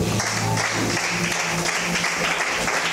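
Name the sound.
congregation applauding to acclaim the Lord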